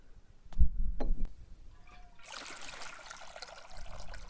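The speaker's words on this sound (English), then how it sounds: "So you filled it with water exactly like this, right?" Water poured into a glass fishbowl, a steady trickling splash lasting a couple of seconds after a few soft knocks and a brief tonal chime.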